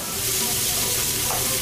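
Fennel seeds hit a hot pot for shrimp soup and sizzle, a steady loud hiss of frying oil that stays even and close throughout, with no voices.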